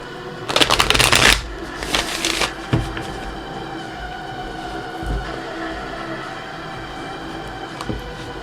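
Lumina Tarot cards by Inner Hue being shuffled up close, with a loud riffling burst followed by a second shorter burst, then quiet handling and soft taps.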